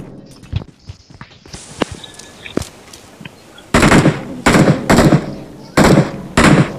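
Gunfire in the BGMI video game on the Livik map: scattered footsteps and sharp clicks lead into four loud, rapid bursts of automatic fire, close and spaced about a second apart.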